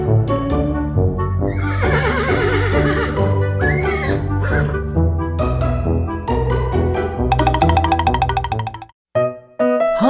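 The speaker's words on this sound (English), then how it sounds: "Horse." A horse neighs loudly and close, a long whinnying call with wavering pitch, followed by bright cartoonish boing and chime effects and brief silence near the end.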